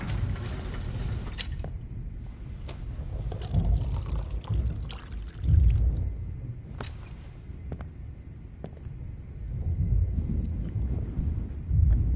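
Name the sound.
water being poured in Life Is Strange video game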